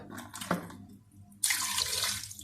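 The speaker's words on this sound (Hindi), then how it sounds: "2 कप पानी डाल दिया" Water poured from a tap-like stream into a cooking pot of mutton for boiling, a sudden steady splashing rush starting midway and running to the end, close and fairly loud, with faint kitchen clatter before it.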